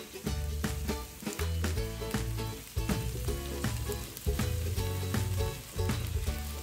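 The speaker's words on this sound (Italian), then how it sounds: "Scalogni, punte di asparagi, gambi di asparagi che adesso vado a mettere insieme agli scalogni, così." Asparagus tips, asparagus stems and shallots sizzle in butter in a pan, a dense steady frying hiss running throughout beneath prominent rhythmic backing music.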